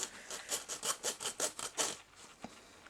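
A plastic car part on a Honda Civic Si is cut or ground by hand with about ten rhythmic, rasping strokes at close range, then a short pause and one faint scrape.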